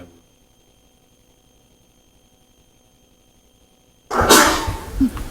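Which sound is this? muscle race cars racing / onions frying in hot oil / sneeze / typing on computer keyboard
sneeze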